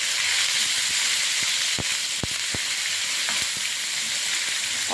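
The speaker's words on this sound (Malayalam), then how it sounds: "ഇത് എന്നിട്ട് നമുക്കൊന്ന് അതേപോലെ ഒന്ന് ചെറിയ മാതിരി വഴറ്റിയെടുക്കാം" Eggplant curry ingredients sauté with curry leaves in a pan, giving a loud, continuous close-up sizzle and hiss with occasional sharp clicks of the spoon against the pan.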